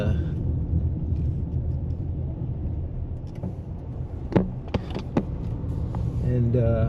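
A car drives along Shortwood Road in Jamaica past the teachers' college, its steady low engine and road rumble continuous throughout, with a few brief sharper knocks near the end.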